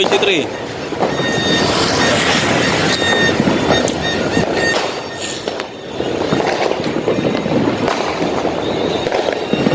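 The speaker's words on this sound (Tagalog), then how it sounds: "Meron silang fireworks dito. Fireworks yan." Dense crackling and popping of New Year 2023 fireworks going off continuously, loud and nearby, mixed with crowd noise and voices talking.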